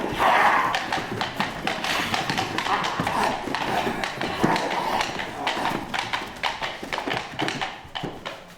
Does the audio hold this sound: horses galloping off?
yes